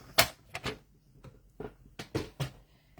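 Cardstock sliced on a paper trimmer during card making, heard as a series of quiet, sharp clicks and scraping ticks in an uneven rhythm, close and faint with no talk.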